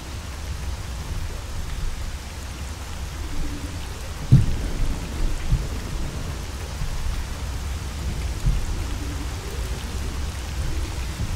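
Steady, loud rain pours down throughout in the S.T.A.L.K.E.R. Call of Pripyat game world, a dense hiss with a low rumble, broken by a sharp crack near the middle and a few softer thuds after.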